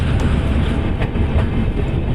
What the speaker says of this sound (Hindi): हमारी राजधानी एक्सप्रेस पहुंच चुकी है अंगुल